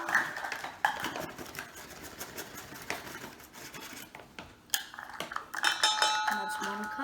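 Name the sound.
measuring spoon scooping flour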